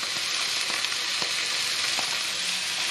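Bamboo shoots stir-fried in a hot pan for a vegan noodle dish, giving a steady, loud close-up sizzle with a few soft scraping stirs scattered through it.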